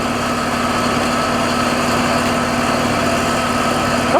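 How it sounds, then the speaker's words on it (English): A HotJet II unit's engine idles in bypass while warming up, a loud, constant low hum with a steady tonal drone and mechanical vibration, unchanging throughout, with no voices. "we're just in bypass, letting the engine warm up"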